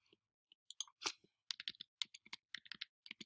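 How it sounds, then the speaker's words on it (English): Keyboard keys tapped repeatedly while nudging pattern notches into place, a run of quick, crisp, close clicks in irregular bursts with short pauses, no voices present. "I'm going to go ahead and use my keyboard arrows to nudge my notches back in"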